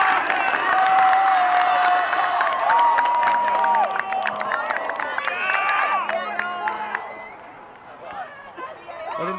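A crowd cheers and shouts at a women's college soccer match, loud and sustained at first and then easing off, with whistles or calls cutting through and a commentator talking over it.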